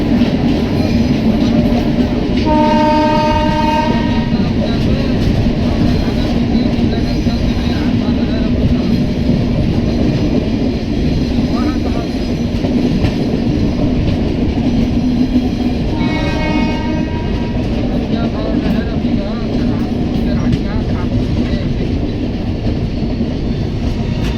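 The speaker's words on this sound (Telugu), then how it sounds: "మన express train Ganga super fast Bengaluru వైపుకి అయితే వెళ్తుంది" The Ganga Superfast Express rumbles steadily through Gooty Fort railway station toward Bangalore with continuous heavy noise, and a horn sounds twice, once near the start and again midway.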